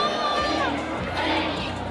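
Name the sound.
football crowd cheering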